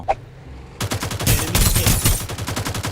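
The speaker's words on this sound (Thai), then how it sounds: "กูยิงอัดรถเลยแล้วกัน" Rapid automatic gunfire sprays at a car in a video game, starting abruptly after a quiet moment and continuing as a loud, steady stream of sharp shots.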